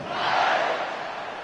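Football stadium crowd at a Cal vs Texas game cheering at kickoff, a broad sustained roar of many voices that swells early and holds steady, loud and close, with no distinct talk over it.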